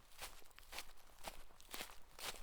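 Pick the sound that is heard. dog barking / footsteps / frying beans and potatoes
footsteps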